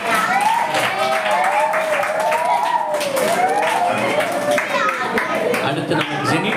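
Applause from a church gathering in Pollachi for a teacher, steady dense clapping throughout with continuous talk over it.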